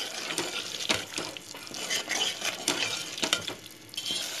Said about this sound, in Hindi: अब मैं यहाँ इसमें तकरीबन 1 टेबल स्पून दही ऐड कर रही हूँ। इसको अच्छे से मिलाएंगे।